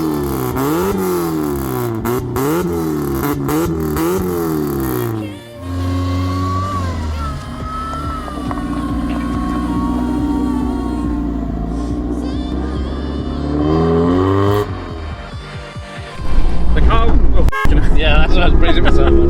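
A supercharged Mazda MX-5 Miata rated at 197 brake horsepower revs and accelerates on the road, engine surging through gear changes with wind noise and an occasional voice in the cabin.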